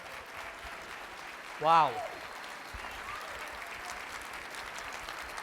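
Sustained applause from an audience in a room, a steady dense patter lasting throughout, with one voice briefly exclaiming over it.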